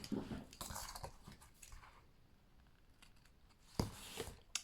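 Scissors snip through scrap paper while making a pop-up Halloween card, giving a few short crisp cuts near the start and another sharp snip toward the end, close and alone.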